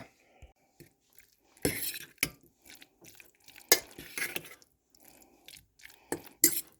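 A spoon scrapes and clatters in a pot of hot pasta with mashed avocado, cream cheese and leftover pulled pork, giving irregular sharp knocks and soft squelches amid quiet pauses.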